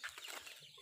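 Chicken clucking at close range in a countryside setting, one short throaty burst of clucks that is brief and fairly soft.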